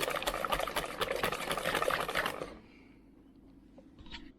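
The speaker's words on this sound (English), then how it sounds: "And then finally add your 190 ml of coffee and stir to combine." Coffee is poured into chocolate cake batter and stirred in, giving a close, busy liquid churning and scraping that stops abruptly after a couple of seconds, leaving near silence.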